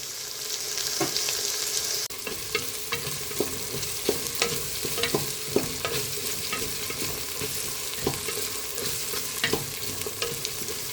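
Ingredients sautéing in a pan for South Indian rice and lentil dish, a continuous close sizzle with frequent scraping stirs of a spoon against the pan.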